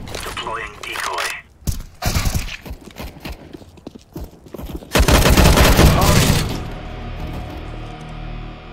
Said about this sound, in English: Deploying decoy.